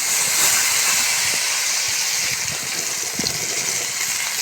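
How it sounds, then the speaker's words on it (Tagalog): Garlic and onion hit hot oil in a pan while cooking kinamatisang daing na bangus, a loud steady hiss of frying with scattered pops and crackles, close by and without talking. "Igisa po natin."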